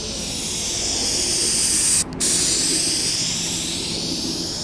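An aerosol spray paint can hisses steadily onto a car hood during a touch-up repaint, a loud continuous close spray with one brief break before resuming.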